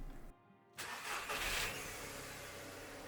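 A VW Polo 9N hatchback cranks and fires up close by after a brief silence, then settles into a steady idle with no voices present.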